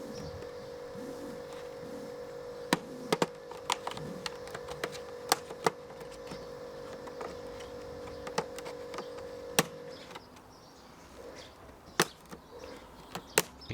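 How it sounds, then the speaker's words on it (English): Plastic halves of an Arcade1Up arcade cabinet being pried apart, a series of sharp, irregular cracks and clicks over a low steady hum, close and fairly quiet, with no voices. "So we're cracking the two bits of plastic apart."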